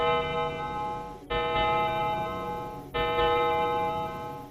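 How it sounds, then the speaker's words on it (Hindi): An old wall clock chimes, two resonant bell strikes ringing out with long, sustained humming decay in a quiet room. "तभी पुरानी दीवार घड़ी ने 12 बार घंटी बजाई।"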